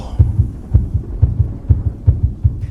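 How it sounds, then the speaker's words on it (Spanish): Heartbeat sound effect in a Spanish-language audio drama of Poe's The Tell-Tale Heart: loud, deep, close double thumps in a steady rhythm, about five beats over the span, with no voice. "el pálpito infernal del corazón del viejo era cada vez más fuerte, más rápido"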